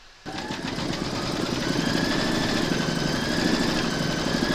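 An embroidery machine satin-stitches an appliqué haunted house design, a steady close mechanical whir with a rapid needle rhythm that starts abruptly and runs evenly throughout.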